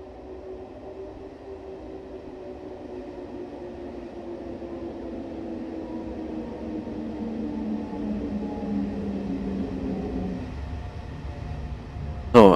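An S-Bahn commuter train draws into the new airport's underground station, a low rumble and tonal whine building gradually over several seconds, with a brief sharp screech as it nears a stop.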